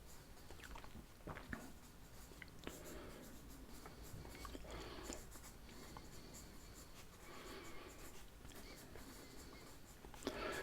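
Pen scratching across a paper map of Australia as state names are written out, soft continuous scribbling strokes close to the microphone in a quiet room, with faint mouth and chewing-gum sounds.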